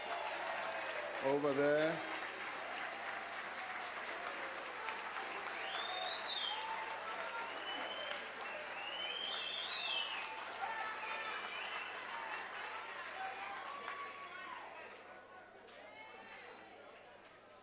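A large crowd in the National Assembly applauds steadily for a long stretch, with cheers and whoops rising above the clapping and a brief spoken phrase near the start, before the applause fades toward the end.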